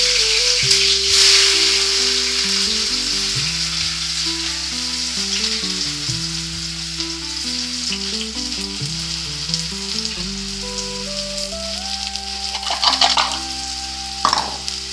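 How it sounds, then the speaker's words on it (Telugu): Chopped onions frying in hot oil in a pan for an eggplant and tomato curry, a loud, steady sizzle throughout with occasional stirring scrapes, while music plays underneath. "ఉల్లిపాయలు వేసుకుంటున్నానండి."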